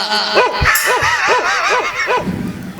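A dog gives a run of about five evenly spaced, close, loud barks, with a brief yelp near the start and a few softer sounds after the last bark.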